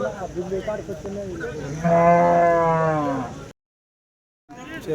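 A single loud, drawn-out moo from a Jersey cow rises over faint background chatter at the Kondamadugu cow market, then a brief silence before murmuring voices resume.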